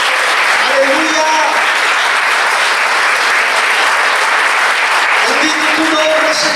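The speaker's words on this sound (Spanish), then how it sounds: "Denle un fuerte aplauso a Jesús en esta mañana" A church congregation claps loudly and continuously through a morning service, a dense sustained roar of applause with voices calling out and a few faint musical tones underneath.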